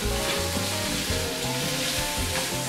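Paneer roasts in a pan with garlic for a garlic chutney paneer wrap filling, making a dense, continuous close sizzle alongside low rhythmic scraping knocks, with no voices.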